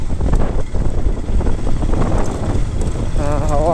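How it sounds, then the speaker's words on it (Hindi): Strong wind buffets the microphone on a dangerous mountain road toward Om Parvat and Adi Kailash in Uttarakhand, a loud, close, gusting rumble that surges throughout, with a brief tonal whine near the end. "बहुत तेज़ हवा चल रही है"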